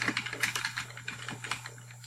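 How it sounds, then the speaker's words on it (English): Rapid, light clicking of keys on a computer keyboard while entering text into a word processor, close and clear, with uneven bursts of keystrokes and a faint electrical hum underneath. "then you're just going to start typing the information"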